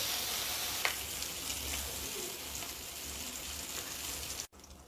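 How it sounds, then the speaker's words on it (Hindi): Seeds for stuffed bitter gourd roast in a hot pan with a steady, soft sizzle and faint crackle, continuous and close, cutting off abruptly near the end. "बिया धऽ के एना के भूज लेबै कनी"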